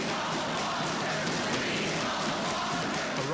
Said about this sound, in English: Raucous crowd inside the Wisconsin State Capitol for days